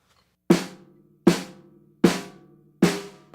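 Four evenly spaced snare drum hits, each a sharp crack followed by a lingering tonal ring that sustains until the next strike, loud and close with no talking.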